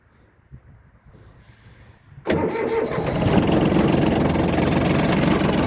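A small Yanmar KE-3 tractor engine cranks and fires after about two seconds of quiet handling noise, then settles into a loud, steady, close idle.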